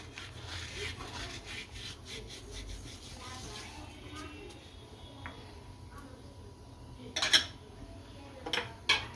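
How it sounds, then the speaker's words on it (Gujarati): Carom seeds (ajwain) are crushed between the hands over a bowl of gram flour, making soft, uneven rubbing and grinding scratches close by, with a few sharper clinks of kitchenware near the end. "આ અજમા છે, શેષ ક્રશ કરીને નાખી દઈ।"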